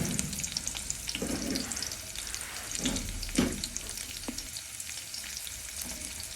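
Chopped onion frying in oil with cumin, a soft continuous sizzle broken by a few scraping stirs of a spoon, close but fairly quiet.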